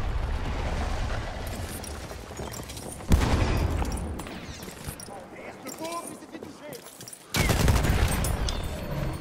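Battlefield 1 gunfire: loud bursts of shots with broadband booms that come in heavy waves, one near the start, a bigger one past three seconds and another late. Quieter battle noise fills the gaps, and someone speaks faintly underneath.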